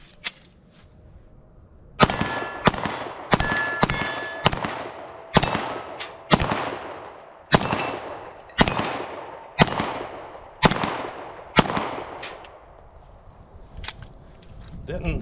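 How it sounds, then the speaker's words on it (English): Handgun shots from a Sig P365 XL or Springfield Hellcat fitted with a micro red dot, about a dozen sharp cracks fired one at a time at a steady pace outdoors, loud and close, each with a short echoing tail. "I'm just going to load up a couple mags, shoot it a little bit"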